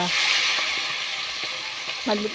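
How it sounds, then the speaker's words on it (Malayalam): Chicken pieces sizzle in hot boiling oil in a kadai, a steady bright frying hiss with a few faint clinks and stirring sounds, moderately close and fairly quiet. "എണ്ണ നല്ലോണം തിളച്ചു. തിളച്ച എണ്ണയിലേക്ക് ഇതാ"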